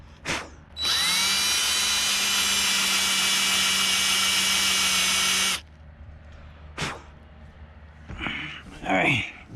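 A cordless drill runs loud and steady for about five seconds while drilling during a Ford Bronco 42-inch light bar install, then stops, followed by brief clunks and short bursts of speech.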